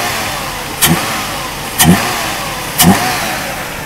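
A Mercedes W124 300CE engine is blipped three times at even intervals, each sharp rev rising and falling back to idle, close and loud with no talk.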